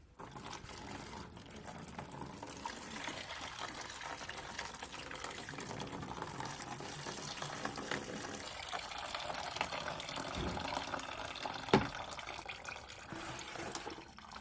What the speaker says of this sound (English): While we have the coolant draining, we're going to go ahead and continue working on the vehicle.